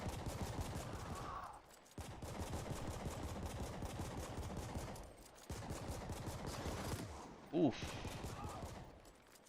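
Rapid gunfire from a pistol in the video game The Ascent rattles on almost without pause, with two brief gaps and a short grunt from a player near the end.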